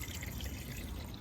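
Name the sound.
engine oil draining out of BMW 118i F20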